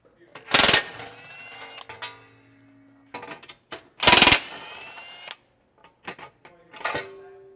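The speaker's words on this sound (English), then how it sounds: "Next, we're going to go ahead and remove this panel with the two 16mm bolts." Two bolts being removed from a lower skid panel on a 2020 Jeep Gladiator, with bursts of ratcheting or impact-tool whirring, metallic clinks and clatter, close and fairly loud, separated by quieter handling sounds.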